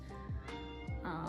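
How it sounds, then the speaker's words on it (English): A cat meows a few times, two or three rising cries close by, with a faint hum in the background. "Sorry if you hear my cat, she's meowing."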